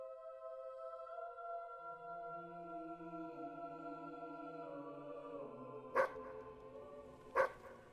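A dog barking in the video game Fable 3: two sharp, distinct barks near the end, heard over a soft, sustained musical score with no talking.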